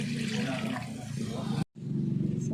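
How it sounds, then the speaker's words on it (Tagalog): Water poured into leftover broth in a cooking pot while making Filipino pancit bihon, a steady close splashing rush that cuts off briefly before resuming. "so dadagdagan na lang po natin ng tubig yan"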